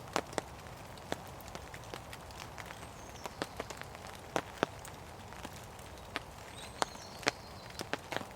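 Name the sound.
heavy rain falling on tent roof while wild camping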